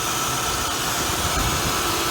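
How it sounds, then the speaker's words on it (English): Close, steady idle of an Oldsmobile Cutlass engine bought at auction, a rough low rumble under broadband hiss, short and unchanging. "Engine sounds very good."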